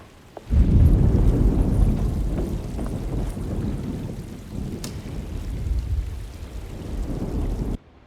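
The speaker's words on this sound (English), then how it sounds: "Just keeping an eye out for the storm" A thunderstorm rolls through in a game, with heavy rain hissing steadily and low thunder rumbling loud and close, easing a little in the middle before building again, then cutting off abruptly.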